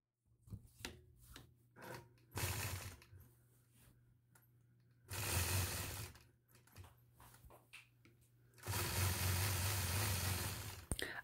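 A sewing machine quilts a block using a ruler, running in three separate bursts of close motorized stitching with a low hum. Quieter handling and shuffling of the fabric fills the gaps between bursts.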